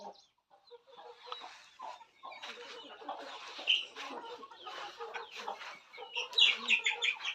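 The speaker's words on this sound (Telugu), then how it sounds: "నెక్స్ట్ ఇక్కడ పొదిగే కోళ్ళు" Brooding country hens in a farm shed give repeated clucks and short calls, close and moderately loud, rising in a busy cluster near the end.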